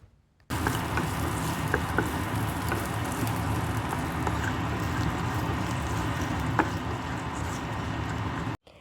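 Urad dal, chana dal, peanuts, curry leaves, mustard seeds and dried chillies fry in hot oil in a wok, giving a steady, dense sizzle that starts abruptly and continues evenly throughout, with a few faint clicks of stirring.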